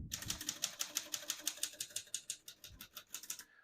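Rapid, even clacking of 1934 Corona Silent portable typewriter keys strikes in a steady rhythm, crisp and close, with a soft mechanical thunk near the end.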